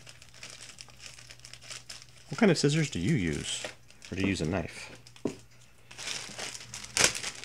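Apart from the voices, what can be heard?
tearing open plastic bag of model kit parts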